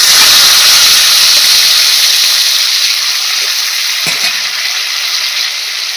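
Spice masala hits golden-fried, thick-cut potatoes in hot oil with a loud, close, continuous sizzling hiss, steady throughout and easing slightly toward the end.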